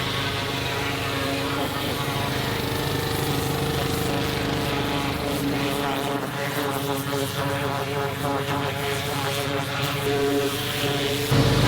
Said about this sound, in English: That is Kaden running the pressure washer on the trans